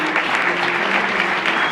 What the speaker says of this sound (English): ladies and gentlemen, a big round of applause for J.